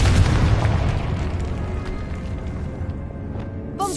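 A Confringo fire spell cast in the Hogwarts Legacy game bursts with a loud, dense boom that rumbles on for several seconds, with a brief bright chime near the end.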